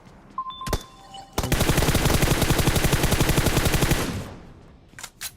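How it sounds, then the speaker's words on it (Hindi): A Tommy gun fires in PUBG Mobile on the Erangel 2.0 map: a loud, fast, evenly spaced burst lasting a few seconds, with a lone shot before it and a couple of scattered shots after. "वो सामने बॉट को टॉमी गन से पेल रहे होते हैं"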